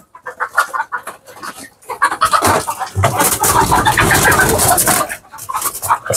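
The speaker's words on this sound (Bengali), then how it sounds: "এই হচ্ছে আপার দেশি মুরগির খামার" Native chickens in an indoor poultry farm, clucking and calling loudly and close, the flock growing noisier and more agitated midway with flapping and scuffling.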